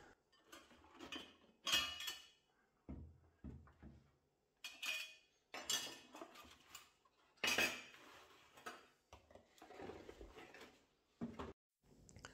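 Metal nozzles from a Parkside PHLG2000 D3 heat gun kit clink and clatter as they are handled, with bursts of bright rattling contact spread across the clip, close by and with no talking.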